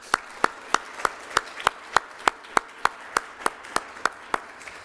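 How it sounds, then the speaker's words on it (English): At an academic symposium, clapping sounds as a steady, evenly spaced run of sharp single claps, about three per second, rather than a dense crowd wash. "Let's give her a round of applause."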